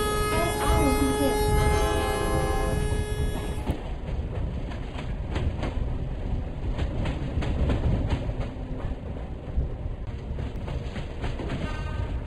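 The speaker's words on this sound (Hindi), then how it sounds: "नई दिल्ली सियालदा राजधानी एक्सप्रेस कुछ ही समय में प्लेटफॉर्म नंबर 1 पर आ रही है।" New Delhi–Sealdah Rajdhani Express pulling into platform 1 in an Indian train simulation game: a steady rolling rumble with rhythmic clickety-clack, opening with a sustained tonal horn-like blare, and a voice faintly audible in the mix.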